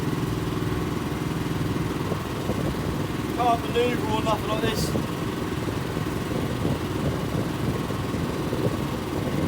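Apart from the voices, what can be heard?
fishing boat engine running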